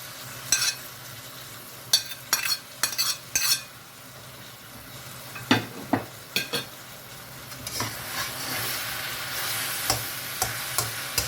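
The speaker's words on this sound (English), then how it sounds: "Our meat is almost done, so now we're going to add in our onion and garlic." Onion and garlic fry with pork meat in a pan, a low sizzle broken by a series of sharp spatula scrapes and clinks against the pan, with no one talking.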